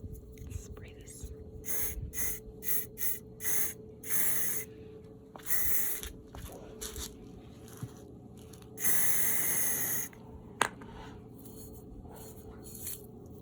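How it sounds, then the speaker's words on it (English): A spray bottle puffs out a quick run of short hissing bursts, followed by a longer sustained spray, close up while cleaning during an Airbnb renovation, with a quiet voice in between. "So I'm just gonna give this a good spray down and then put this back in its place."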